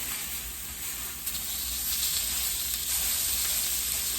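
Steaks, six ounces apiece, sizzling in a hot pan after being flipped: a steady, loud, close frying hiss that swells slightly after a small clatter, with no talking.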